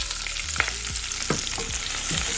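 Chopped onions and curry leaves go into hot oil in a pan for chicken curry, crackling and sizzling loudly and steadily, with a few spoon scrapes and stirring knocks over soft background music.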